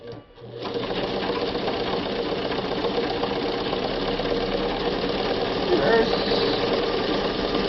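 A vintage Kingston Precision Synchro-Matic sewing machine starts up and sews steadily, a loud close mechanical whir with a fast even rhythmic clatter that holds for several seconds.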